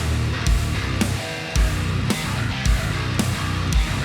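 A djent-style bass guitar played through the Loki 2 bass plugin, heavy low chugging notes punctuated by a series of hard, evenly spaced picked hits roughly every half second, loud and alone.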